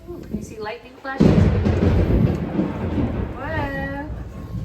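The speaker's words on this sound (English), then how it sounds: "A big old thunder and lightning." Loud thunder rumbles through a thunderstorm after a quieter opening, a broad heavy roll lasting several seconds, with people talking and exclaiming over it in a home kitchen.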